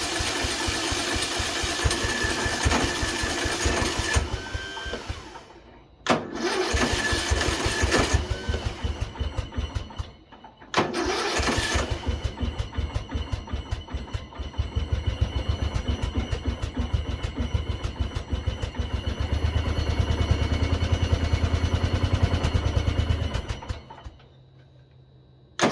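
A small engine cranked on choke, fuel still flooding in, runs in rough bursts that cut out twice, then keeps running with a buzzing, uneven rattle close by before dying away.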